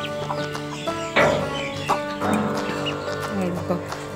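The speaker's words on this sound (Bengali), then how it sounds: "এখানে আমি আমার মুরগিটাকে রেখেছি।" A hen kept in a narrow lane behind a village kitchen clucks in short, irregular bursts nearby, while a person talks over the sounds.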